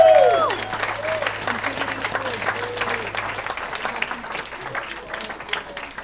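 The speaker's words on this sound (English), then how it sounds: "Give them a round of applause." A crowd applauds at an evening gathering, steady clapping with faint cheers and background voices mixed in, moderately loud throughout.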